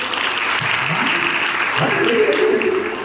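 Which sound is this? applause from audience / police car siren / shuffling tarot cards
applause from audience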